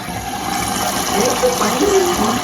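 Water flows steadily into an LG 8kg front-load washing machine, a continuous rushing fill with a faint pump hum, while people talk nearby.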